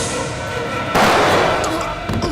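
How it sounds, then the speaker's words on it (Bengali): A single gunshot in a Bengali TV crime serial, a sharp loud broadband blast that rings out over a tense background score and then decays. "গুলির আওয়াজ"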